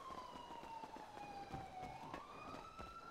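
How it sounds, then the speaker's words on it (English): A faint ambulance siren wails steadily in the distance, its pitch sliding slowly down then back up under a murky background wash. "That was an ambulance."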